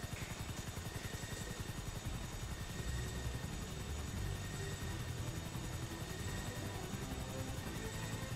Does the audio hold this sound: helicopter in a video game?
yes